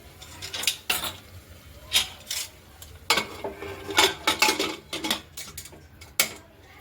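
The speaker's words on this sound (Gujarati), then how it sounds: "અહીંયા હવે આપણે કુકરનું ઢાંકણ ઢાંકી દઈશું." A pressure cooker lid is fitted and closed over undhiyu, the Kathiyawadi mixed vegetable dish, with a burst of close metallic clanks and clatters in irregular clusters and no talking.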